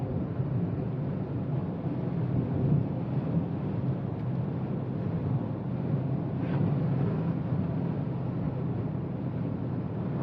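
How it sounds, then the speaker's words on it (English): Steady, heavy wind buffeting the microphone, a constant low roar with rushing gusts and no voices. "But it has been very windy."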